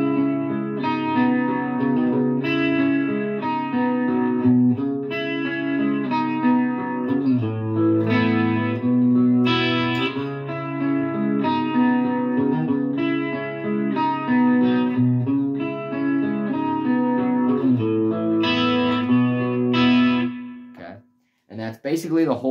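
An electric guitar played through effects, with chorus, distortion and reverb, runs a riff: repeating chords and picked notes ringing out loud and steady for about twenty seconds before stopping.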